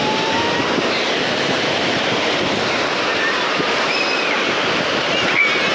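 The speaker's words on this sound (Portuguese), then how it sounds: "O mar tá bem agitado, pessoal." Rough sea surf at Praia do Forte beach in Cabo Frio roars in a steady, loud, unbroken wash of breaking waves with no clear voices.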